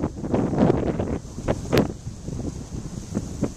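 Strong gusts buffet the microphone at a waterside park in Miami, with irregular bursts of rushing air and rumble rising and falling over a few seconds; no speech.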